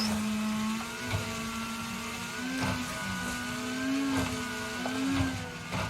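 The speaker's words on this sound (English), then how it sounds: "Now my car is super loud." A damaged rally car engine in the Wreckfest racing game drones loudly and steadily, its pitch wavering up and down as the car drives on, alone with no talking.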